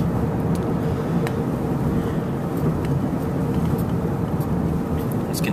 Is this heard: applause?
no